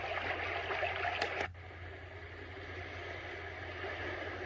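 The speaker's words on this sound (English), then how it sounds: "A river." A white noise machine plays a river setting: steady, full rushing water noise held at an even level throughout, with a brief sharper burst near the start.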